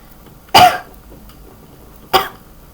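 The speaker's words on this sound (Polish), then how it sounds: "Bardzo przepraszam Was za mój kaszel" Two separate coughs, a sharp one early and a shorter one about a second and a half later, with quiet in between.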